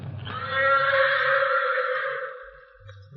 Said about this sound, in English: Morato's black horse heard him and answered his challenge.